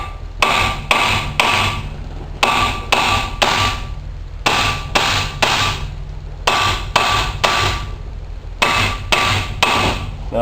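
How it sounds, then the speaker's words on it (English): A dead blow hammer with a plastic head strikes the back of a wheel hub to free a stuck wheel bearing. The blows come close and loud in steady groups of three, with short gaps between the groups. "dead blow, which is got a plastic base on it, so it won't hurt anything. Tap from the back like that."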